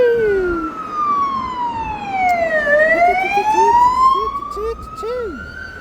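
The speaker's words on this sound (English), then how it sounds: "with lights and sirens going" A police car siren wails, sweeping down and then up in pitch, passing close by over traffic noise, with faint chirping calls in the background.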